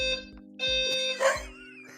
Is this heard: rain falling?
no